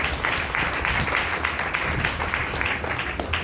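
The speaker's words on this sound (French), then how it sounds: "Est-ce que nous pouvons applaudir pour la parole de notre Seigneur?" A church congregation applauding together, a dense, continuous wash of many hands clapping at moderate loudness, filling the room steadily with faint voices mixed in.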